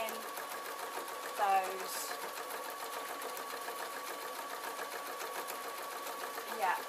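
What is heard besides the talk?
sewing machine stitching wool for a ballet bag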